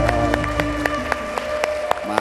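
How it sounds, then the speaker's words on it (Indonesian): A crowd at a Jakarta political gathering welcoming Governor Anies Baswedan applauds, scattered sharp claps spread over a loud background of sustained music tones. "boleh kita berikan tepuk tangan Anies"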